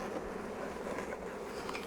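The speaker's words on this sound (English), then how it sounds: "brush off any remaining bees, and now we have a successful swarm catch" Steady, dense buzzing of a honeybee swarm being caught into a Flow Hive, continuous and fairly close, with no voices over it.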